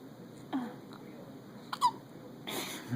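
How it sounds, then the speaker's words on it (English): Small, faint hiccups from a premature baby, a few isolated soft catches spaced irregularly, quiet and close in a hushed room with light breathing. "You got the hiccups"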